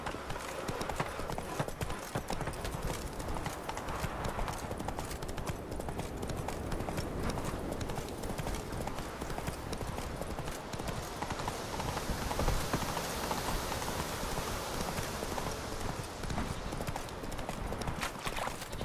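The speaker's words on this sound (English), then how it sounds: "Not so fast, Roach. Giddy up" Horse hooves clip-clop at a quick, galloping rhythm in the video game The Witcher 3: Wild Hunt, a dense, continuous drumming of hoofbeats that stays close and loud, with an occasional faint whinny.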